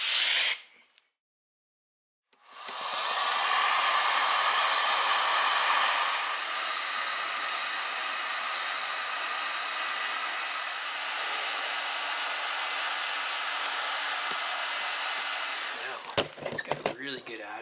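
A heat gun or hot-air blower warming a freshly riveted plastic snowflap on a Ski-Doo XP snowmobile blows as a loud, steady broadband roar for about fourteen seconds, starting after a brief silence and cutting off near the end.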